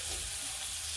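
Fried cauliflower is tipped into a pan of okra and radish and sizzles with a steady, close hiss for a brief moment.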